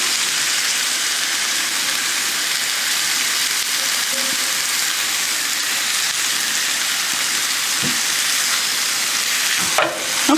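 Boneless beef short ribs sear in a hot pan over medium-high heat, a steady loud sizzle filling the whole stretch, with a brief clatter near the end as the meat is turned.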